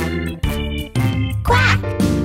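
A sung cartoon duck quack in a children's animal song, bright harmonic vocal tones over cheerful musical accompaniment, with several short bursts rising and falling in quick succession.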